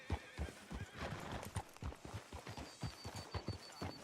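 Rhythmic hoofbeats clop from a horse in the PS4 game Red Dead Redemption 2, landing in a quick steady pattern at a fairly low level, with some faint creaks and other game sounds in the background.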